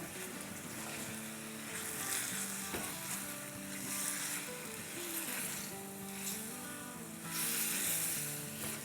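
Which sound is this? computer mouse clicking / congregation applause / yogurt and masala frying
yogurt and masala frying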